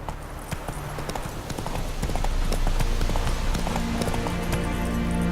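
Horse hooves clip-clop in the Witcher 3 video game, a steady near rhythm of hoof strikes that builds a little over a low game background.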